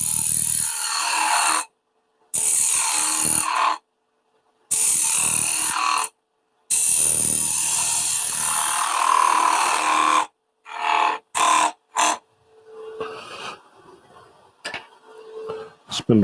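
A spindle gouge cuts a small wooden snowman spinning on a lathe, making loud rough scraping and shaving bursts broken by short pauses, then lighter, scattered scratchy touches as the cutting eases off.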